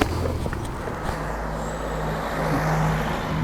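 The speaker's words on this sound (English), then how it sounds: "Got that one with a car moving past" A car passes along a street with steady low engine and tyre rumble, fairly close and continuous, set against general traffic noise.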